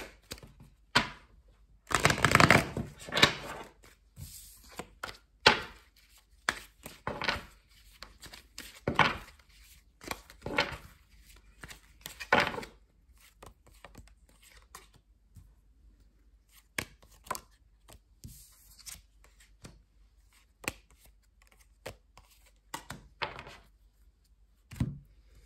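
Oracle cards are shuffled and pulled for a love reading, making a run of sharp, dry taps and slaps that are loud at first and then scattered and quieter. No one speaks.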